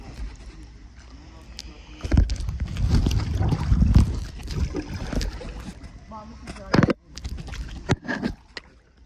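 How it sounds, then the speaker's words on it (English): A kayak paddled up Rock Springs Run, with close splashes and drips from paddle strokes at irregular intervals over rushing wind noise on the microphone. "So I'm trying to paddle and video at the same time."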